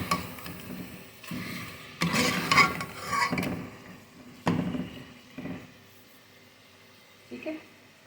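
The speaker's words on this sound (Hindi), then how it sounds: "अब लहसुन अदरक में इसको अच्छा सा भूनेंगे" Garlic ginger paste being fried in oil for nihari, heard as scraping and stirring of a spoon against a pot in irregular strokes with a soft sizzle underneath, fairly close, with no speech over it.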